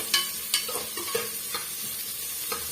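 A spoon scrapes and stirs onions sautéing on high flame in a pan for potato-pea kurma, with quick clattering strokes over a steady frying sizzle.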